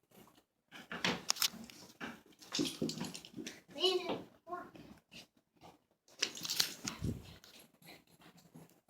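Dogs play with family members at home, giving short whimpers and yips and making scuffling, chewing sounds while adults and children talk throughout.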